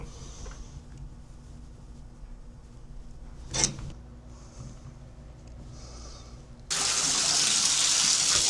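Water gushes loudly from a bathtub shower pipe, switched on suddenly in the last couple of seconds after a quiet stretch with a brief clatter.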